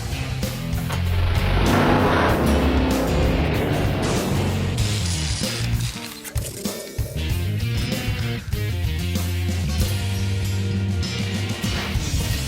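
A Dodge Challenger SRT8 muscle car drives close by, its engine roaring loudly through acceleration, easing briefly midway, then rumbling on in a deep throaty drone with shifting revs.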